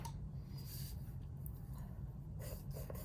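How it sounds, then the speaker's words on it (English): Pencil shading on paper with the side of the graphite, soft scratchy strokes in a few short bursts over a low steady background hum. "Do not use the tip of the pencil, please. Use only the side of the pencil."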